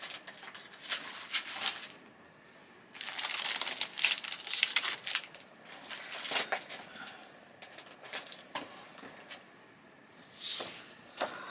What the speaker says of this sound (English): Let's just grab some black card.